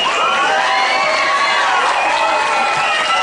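A large festival crowd at the Chupinazo in Iturrama cheers and shouts loudly, with children's whoops and clapping mixed into a dense, continuous roar.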